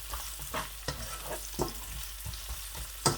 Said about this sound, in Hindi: हल्की आंच पर प्याज को हम पकाएंगे उस वक्त तक जब तक प्याज हल्का हल्का सा ब्राउन होना शुरू हो जाता है